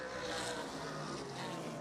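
Modified race cars roar past on the 3/8-mile oval at Wiscasset Speedway, a dense, steady engine drone filling the air, loud and sustained with a broad rushing quality and no clear talk.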